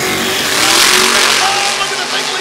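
A drag race car with a turbocharged LS engine launches hard off the line and turns left, a broad, loud engine roar swelling and then easing slightly, with commentary voices talking over it.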